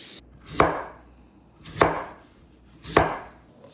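Three evenly spaced knife chops on a cutting board as sweet potato medallions and broccoli florets are prepped for roasting, each a sharp thud with a short decay, close and clear with no talk.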